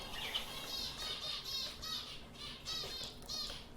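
Young budgerigar chicks in a cage chirp in quick, repeated high twittering bursts, close and fairly steady over a soft background.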